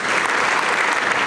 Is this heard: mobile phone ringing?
no